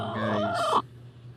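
A young brood stag rooster gives a short, close crow that breaks into a clucking note before cutting off.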